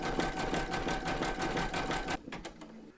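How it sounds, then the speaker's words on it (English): Sewing machine zigzag stitching around a large Statue of Liberty appliqué, a steady close mechanical whirr that runs continuously for about two seconds, then stops and leaves only quiet room tone. "that's going to do the zigzag stitching around here and down here"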